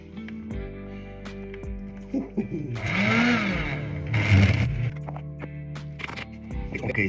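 An electric grinder whirs through roasted coffee beans for a couple of seconds, a loud buzzing grind that rises, dips and resumes, with someone talking before and after it.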